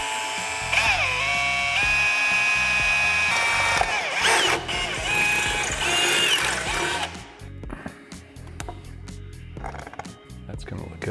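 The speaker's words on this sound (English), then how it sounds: "drill a hole." A power drill bores a hole while mounting an anti-vibration clamp in a garage, whining in short, pitch-shifting bursts with ratcheting clicks, then quieter intermittent tool noise toward the end.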